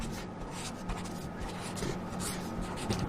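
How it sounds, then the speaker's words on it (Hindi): Chalk or marker steadily writing calculus limit steps on a classroom board, a continuous scratchy rubbing stroke sound heard close up with no talking. "दोबारा लिखता हूं मैं हमेशा,"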